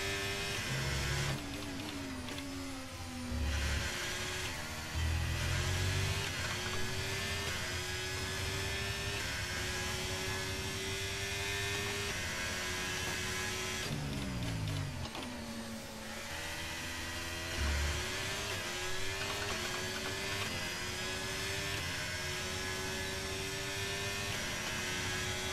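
F1 car engine in a racing video game, Bahrain Grand Prix, a steady high-pitched whine that sags as revs fall and then climbs again. Tonal engine drone throughout with repeated pitch drops, loud and continuous.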